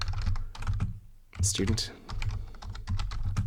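Typing on a computer keyboard, bursts of close clicking keystrokes broken by short pauses, with someone speaking briefly over the tapping.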